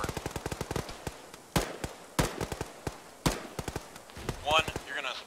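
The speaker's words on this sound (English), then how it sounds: "Firing again." Weapons firing in Arma during a ShackTac military operation: rapid bursts of sharp shots punctuated by a few heavier, louder single blasts, with a voice speaking briefly near the end.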